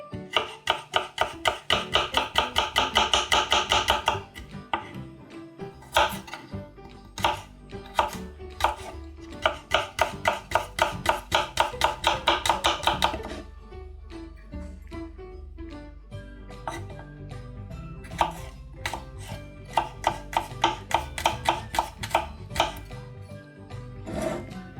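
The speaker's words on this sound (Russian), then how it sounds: "Нарезаем 2 зубчика чеснока меленько." A knife finely chops two garlic cloves on a board for an eggplant dish, rapid bursts of crisp close taps in fast runs separated by short pauses and single knocks.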